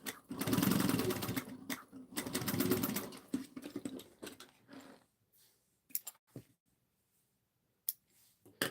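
A sewing machine stitches a fabric pouch in two long buzzing runs near the start, then gives way to scattered clicks and short handling noises.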